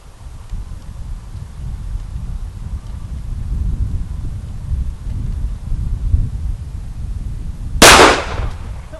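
A single sharp pistol shot from a Sig Sauer 1911C Scorpion near the end, loud and close, after a stretch of wind-buffeted outdoor range ambience.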